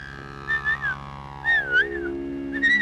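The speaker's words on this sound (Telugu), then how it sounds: "మీరు ఈల బాగా వేస్తున్నారు." A person whistles a melodic tune close by in a kitchen, in three short phrases separated by brief pauses, each with gliding pitch and no voices.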